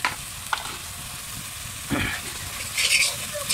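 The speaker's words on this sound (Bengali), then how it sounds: "মশলা বোনা চলতেছে।" Spices frying with salt, chili, onion, ginger and turmeric in a pan, a soft steady sizzle with occasional scraping stirs and louder bursts of hiss as the mixture is turned.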